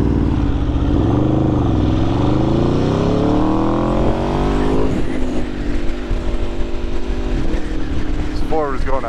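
An Aprilia 1100 motorcycle with a full titanium Akrapovic exhaust accelerates hard, its engine rising in pitch through a long pull before shifting, loud and close amid wind noise, with a rider's voice heard over it.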